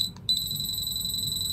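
A Greddy Sirius OBD2 LCD controller gives a sharp, high-pitched electronic beep alarm, a short chirp followed by a sustained steady tone, loud and close with faint background noise.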